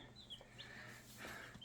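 Hens clucking on a farm where newly added chickens, including Buff Orpingtons, share a pen with turkeys; soft, scattered clucks over a steady low hum, fairly quiet and without talk.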